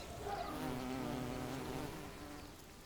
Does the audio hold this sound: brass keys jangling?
no